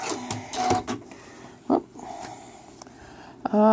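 A Janome Memory Craft Horizon 12000 sewing machine stitching a decorative pattern, close and loud, in bursts of rapid needle chatter broken by brief pauses, ending with a short whirring surge.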